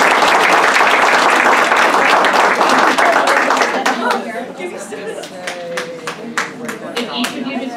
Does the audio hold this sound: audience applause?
yes